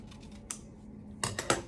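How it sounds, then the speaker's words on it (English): Scissors cutting a paper cookie in half, heard as a few faint, crisp snips, one alone and then three in quick succession, over a quiet room hum. "getting our scissors out, if we were to cut our cookie in half"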